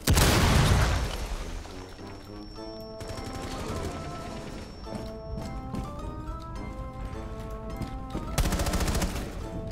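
AK-12 rifle fire in the video game Rainbow Six Siege comes as rapid bursts of loud, close automatic shots with sharp cracks over game sounds, and a brief spoken word cuts in.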